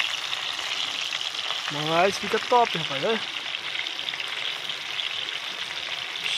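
Fish frying on an iron griddle plate at an outdoor riverside barbecue, a steady close sizzle running throughout while someone talks briefly in the middle.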